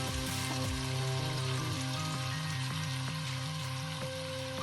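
Lemon juice with turmeric and salt boils and sizzles in a pan, a steady close bubbling hiss with no talking, while a tonal hum and faint clinks sit beneath it.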